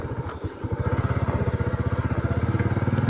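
A motorcycle engine pulses in a fast, steady rhythm at close range as the bike is pushed along a difficult rough path, the putter briefly dipping before settling into a continuous chug.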